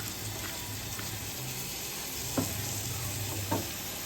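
Tomatoes sautéing in a pan for a Kerala beef gravy, a steady close sizzle with two brief scraping stirs, no voices.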